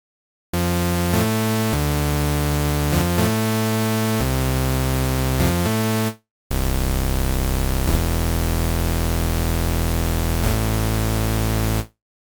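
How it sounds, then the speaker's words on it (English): Buzzy raw saw, square and noise oscillators from UVI Falcon 2 step through a series of sustained pitches. Bright and harsh with a hissy noise layer, they briefly cut out and resume. "We've got a saw, a square, and a noise oscillator."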